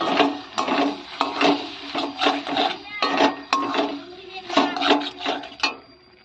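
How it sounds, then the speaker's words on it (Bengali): Ginger, mustard seed and green chilli being ground into paste on a traditional stone slab, a repeated rough rasping rub of stone over stone in steady back-and-forth strokes, close and moderately loud. "তো এটা আমি শিলে বেটে নেব।"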